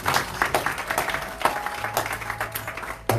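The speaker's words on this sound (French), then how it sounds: "Est-ce qu'on peut acclamer le Seigneur?" A church congregation applauds in praise of the Lord, a loud burst of many hands clapping in uneven rhythm that continues for a few seconds, with faint voices mixed in.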